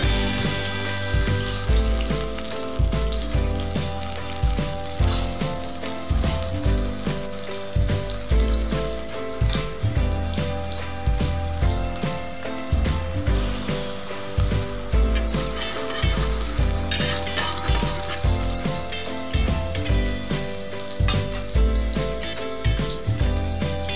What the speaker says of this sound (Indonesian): kita panaskan dulu minyak goreng, kemudian kita masukkan daun bawang. Nah, kita tumis hingga layu.